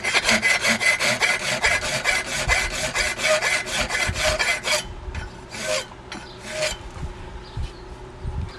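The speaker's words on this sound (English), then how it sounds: "I'm gonna dress this up right here while I got the file going" A hand file rasps in steady back-and-forth strokes as it dresses a forged horseshoe toe clip, loud and close for the first few seconds, then slowing to a few scattered strokes.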